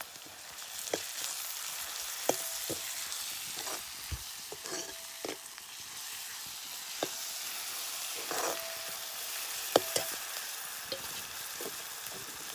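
Ground masala paste and browned onion fry in a pan over a wood-fired village stove, a steady close sizzle broken by scattered pops and the scrape of stirring.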